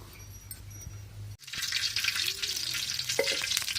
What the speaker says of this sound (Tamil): அம்மா மீன் வறுக்க போகிறாங்க.